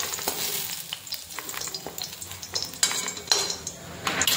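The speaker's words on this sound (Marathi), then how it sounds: "तर बघा आपला लसूण सुद्धा लाल झालेला आहे आणि मिरच्या सुद्धा भाजल्या गेलेल्या आहेत" Garlic and chilies roast in a pan with a close, crackling sizzle punctuated by scattered sharp pops and a few utensil clinks, with no talk.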